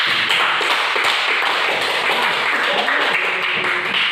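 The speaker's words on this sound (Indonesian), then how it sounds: "Tepuk tangan untuk kelompok 2." Classroom applause for a student group at an Islamic religious-history lesson in a madrasah, a steady, dense wash of clapping hands filling the room continuously from start to finish.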